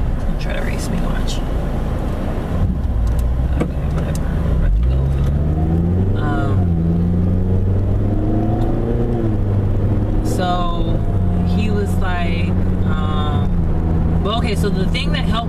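A car accelerates while racing a Scion on the road, its engine tone rising and falling in steady revving sweeps under continuous loud talk from the driver inside the cabin.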